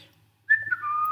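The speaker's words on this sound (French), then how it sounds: "je vais faire mon petit sifflement" A short human whistle, one brief clear tone that starts abruptly and slides slightly downward, close and fairly loud against near silence.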